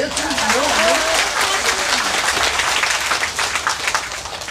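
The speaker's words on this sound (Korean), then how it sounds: "다시 한 번 박수 칩시다." Lecture audience breaking into steady applause, a dense wash of clapping that carries on for several seconds, with a voice talking briefly over the start.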